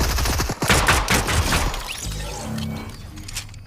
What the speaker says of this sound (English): The gun sounds really nice.